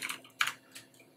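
Computer keyboard typing at close range: a few quick key clicks in a short burst, faint and alone.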